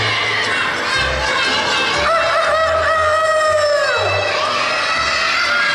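A voice mimics a chicken with a rising, warbling squawk over a noisy room where children shout and chatter.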